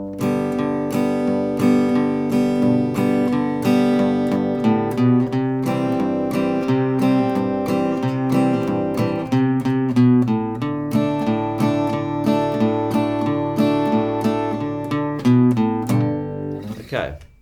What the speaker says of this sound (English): you can do this sort of thing where you're throwing little bass notes in between the chords